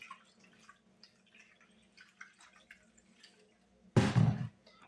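Filtered water splashes into an ice cube tray in one short, fairly loud burst near the end, after a stretch of faint quiet background.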